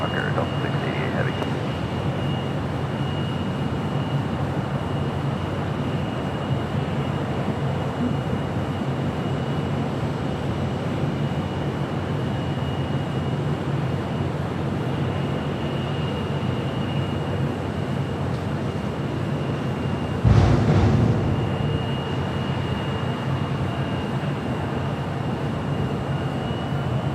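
Distant roar of a Delta heavy jet taking off from LAX runway 25 right, a steady broadband rumble that holds for the whole stretch with a brief thump partway through, no voices heard.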